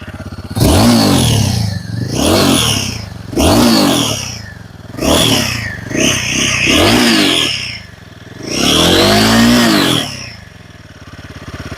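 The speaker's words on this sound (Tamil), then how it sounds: "வண்டியை ரோவ் பண்ணி காட்டுறேன் பாருங்கள்." A Royal Enfield Himalayan 450 motorcycle engine revved repeatedly, about six loud, close throttle blips rising and falling in pitch with a brief idle between each, the last rev held longer before settling back to idle.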